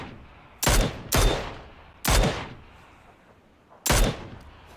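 Four sharp, loud gunshots from a Mini 14 rifle in an outdoor shooting game, two in quick succession, then single shots about a second and two seconds apart, each with a trailing echo.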